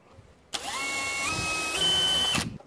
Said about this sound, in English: I need to drill that piece of wood there